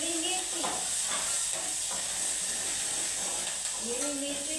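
Green chilies dropped into hot oil with whole spices give off a soft, steady hiss and sizzle that runs throughout, fairly quiet, with no clear voices.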